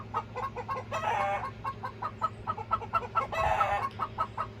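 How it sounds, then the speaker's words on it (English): A hen sings the egg song, cackling in a steady, repeating rhythm of clucks, building into two louder drawn-out squawks, close by with faint background hum. "she's the one singing the egg song because she's not laying"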